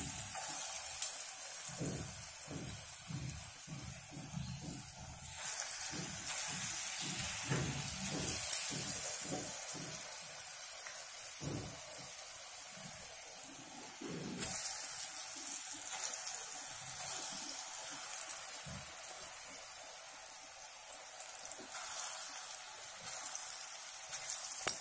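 Chana dal pakoras frying in hot oil in a kadai, a steady close sizzle with crackling bursts and occasional clinks, no talking.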